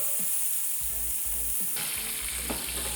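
A steak sears in a hot pan, a continuous loud sizzle with a few soft bumps as the meat is turned onto another side.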